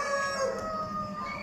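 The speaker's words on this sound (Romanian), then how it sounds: "Foarte mulți cocoși." A rooster at a poultry exhibition among many other cockerels gives a drawn-out crow, harmonic and fairly loud against a steady hall background of other birds.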